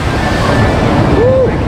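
A water ride boat splashes down at Pleasure Pier, an amusement pier in Galveston, Texas, heard as a steady, loud rush of churning water blended with outdoor wind noise throughout.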